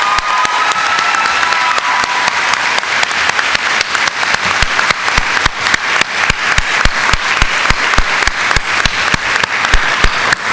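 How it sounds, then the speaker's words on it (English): Convocation audience applauding Dr. Willis for 50 years of service to the Converse community, sustained loud clapping from a large crowd across the whole stretch, with sharp individual claps standing out near the front. "join me in giving him a round of applause"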